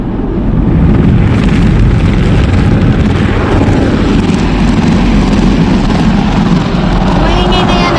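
A motorboat engine drones loudly and steadily throughout, with broadband rumble and water noise on a Philippine boat ride home in the morning; voices are faintly mixed in.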